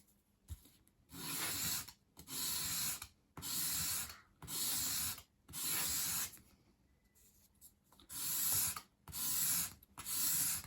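Repeated strokes of fine sandpaper across a bevelled edge on a small 1/12th-scale wooden dolls-house bookcase piece, eight or nine steady rasping passes in a regular rhythm, close and clear with short pauses between.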